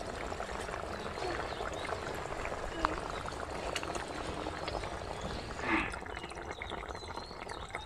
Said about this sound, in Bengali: বন্ধুরা মাছের ঝোলটা ফুটে গেছে